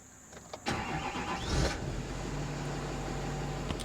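Engine cranking and catching on a vehicle with an Allison transmission that is not shifting: a brief starter whir rising into a running engine that settles into a steady low idle, close and fairly loud, no talking.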